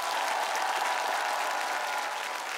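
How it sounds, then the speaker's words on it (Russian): Studio audience applause on a TV singing-contest stage, a dense, steady burst of clapping that stays loud from start to finish with no voices on top. "Лёве, аплодисменты Ламе, аплодисменты Маске, аплодисменты всем, кто придумал этот красивый номер."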